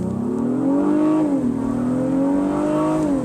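A 2023 Honda Pilot TrailSport with all-wheel drive accelerates hard from a launch, its engine droning loudly and rising steadily in pitch, with a brief dip as it shifts.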